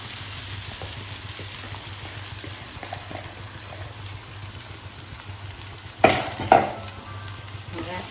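Soaked poha stirred into turmeric oil in a pan, giving a steady low sizzle with light stirring taps and two louder scraping clatters near the end, close and unvoiced.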